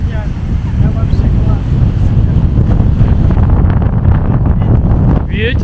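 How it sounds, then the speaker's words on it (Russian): Steady, loud wind rushes and buffets the microphone on Phra Nang Beach, Railay, Krabi, Thailand, with a faint sense of open water in the background and a brief voice near the end. "Ветер поднялся обалденский."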